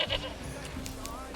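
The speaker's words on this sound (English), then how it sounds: "there's goats just chilling out the back of it" Goats bleating in Manor Lords, a few short calls at moderate distance over a steady ambient background of the village.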